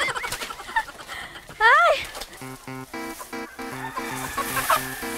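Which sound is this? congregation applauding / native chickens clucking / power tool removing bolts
native chickens clucking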